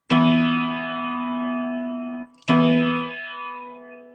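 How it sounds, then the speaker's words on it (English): A sustained, rich chord rings out loud and close, fades slowly, breaks off briefly, then sounds again with a fresh strong attack. "Now, if I play the chord."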